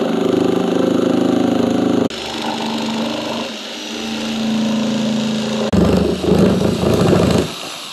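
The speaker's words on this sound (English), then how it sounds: "Let me saw a little bit of this in two" A loud, steady mechanical buzz of a power saw cutting through a plastic 55-gallon barrel, shifting in pitch as the blade works, with a brief pause partway.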